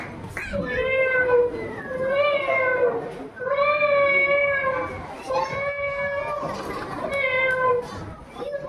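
Voices imitate cats with long, wavering meows at a school inter-house cultural competition, one after another in overlapping drawn-out calls, loud and close.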